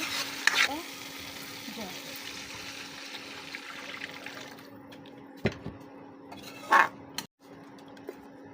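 Spice paste frying in a pan, with a faint steady sizzle and occasional stirring scrapes, plus a low constant hum underneath and a couple of brief louder clatters.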